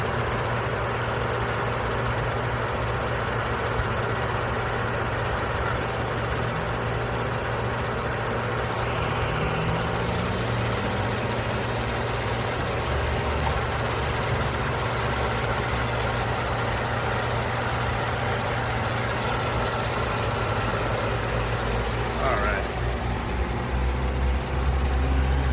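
A 2010 Ford Taurus SEL with 98,000 miles sits idling, its engine giving a steady, continuous mid-pitched hum with light vibration for about twenty-five seconds, heard alone without talk.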